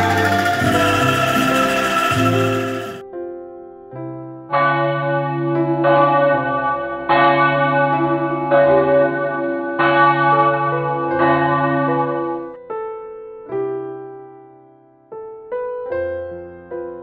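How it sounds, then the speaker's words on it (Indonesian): Church bells at HKBP Menteng ring out in a slow, resonant pattern of repeated tolls with long ringing decay, following a brief louder passage at the start, with no voices over them. "suara lonceng mulai terdengar ke seluruh penjuru dunia"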